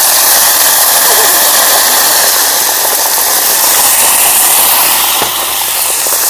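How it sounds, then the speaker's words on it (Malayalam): Salt water is sprinkled into hot oil where banana chips are frying for Onam, setting off a loud, close, continuous roaring hiss that fills the whole stretch with no break. "അപ്പം തന്നെ ഇത്തിരി ഉപ്പ് വെള്ളം തളിക്കുക."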